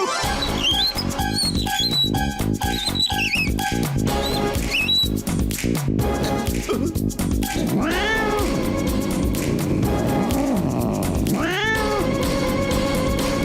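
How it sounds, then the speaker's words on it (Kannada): A cartoon cat in a Motu Patlu episode meows loudly in drawn-out, rising and falling cries over busy background music and effects. "ಅಲ್ಲಿ ಬರ್ತಾ ಇದೆ ಆ ಬೆಕ್ಕು"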